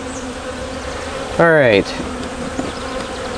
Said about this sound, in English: there's 15 bees pushing on one side.